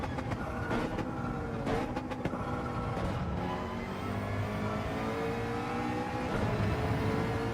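A McLaren race car engine in Gran Turismo 7 drones and revs steadily, pitch sweeping up and down through gear changes and corners, with a few sharp clicks and thumps over the continuous mechanical roar.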